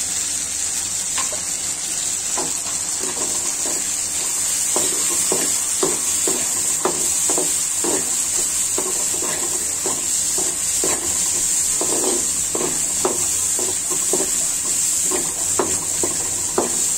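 Spice paste for a green jackfruit curry fries and gets stirred in a pan, with a steady sizzle under repeated scraping strokes of a spoon at a regular pace, close up and without talk.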